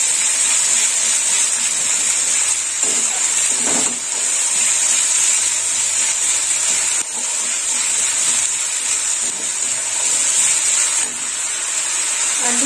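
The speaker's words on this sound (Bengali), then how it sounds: "আর একটু কষে নেব।" Brinjal with coriander paste sizzles and sautés in a pan, a steady loud hiss that runs throughout with faint scraping of a spoon underneath.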